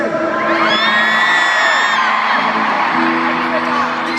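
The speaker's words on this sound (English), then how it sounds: "Scream from the dads on 3." A concert arena crowd of dads screams on cue at a show in Cardiff, a loud sustained wall of whooping and yelling with high shrieks mixed in, lasting the whole stretch.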